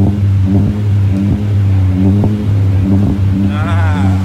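A Honda City exhaust revs in a garage, giving deep, full blips of throttle repeated several times over a steady idle rumble, close and fairly loud, while people talk nearby.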